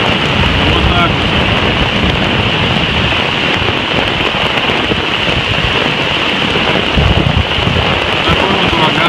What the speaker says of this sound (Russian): Такой вот ураганный ветер.